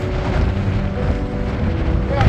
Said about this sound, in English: That tells you how windy it is.